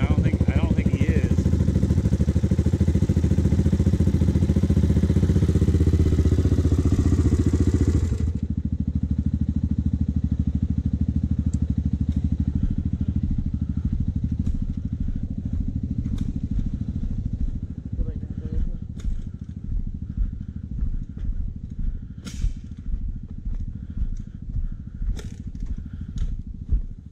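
A kick-started trike engine roars loudly and steadily at first, then drops to a lower rumbling idle that turns into an uneven, pulsing chug, while people talk nearby.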